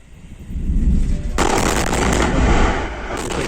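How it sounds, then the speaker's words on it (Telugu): Loud rumbling blasts from stone quarry blasting near a village, bursting in suddenly and rolling on, harsh and booming, with a second surge near the end; houses shake. "బ్లాస్టింగ్ సమయంలో పెద్ద పెద్ద శబ్దాలు రావడంతో ఇళ్లు మొత్తం దద్దరిల్లుతున్నాయి"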